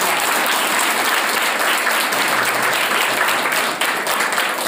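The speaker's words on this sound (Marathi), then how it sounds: "तुमच्यासाठी टाळ्या वाजवा" A crowd of students and guests at a school event in a hall applauds, dense continuous clapping, loud and close, holding steady for several seconds.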